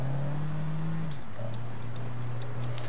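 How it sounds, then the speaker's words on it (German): A drivable SUV in the video game APB Reloaded: a steady, fairly close engine drone that shifts pitch as the vehicle pulls away, with faint ticking behind it and no talk. "Der SUV, der fährt sich so bombastisch geil. Zieht gut an."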